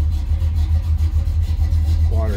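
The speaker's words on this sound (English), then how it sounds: "A little rumble coming out of that 350." A 1972 Chevrolet Nova's 350 V8 idles with a steady, lumpy low rumble pulsing evenly throughout, close and fairly loud, with a brief voice entering at the end.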